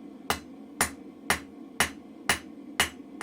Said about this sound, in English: hammers at an angle, you're coming in, hitting either side, so it's all central.